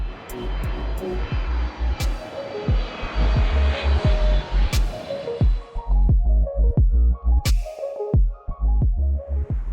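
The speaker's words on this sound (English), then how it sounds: "that's a KLM 777, which happens to be also my favorite aircraft" A KLM Boeing 777 at Changi Airport gives a loud, steady jet engine roar with a deep throbbing hum and rhythmic low pulses throughout, no talking.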